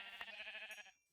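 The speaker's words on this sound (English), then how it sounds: "there's actually a whole bunch of sheep on the map" A single wavering sheep bleat from a blocky Minecraft-style game, RWBY World of Blocks, lasts about a second, quiet and alone.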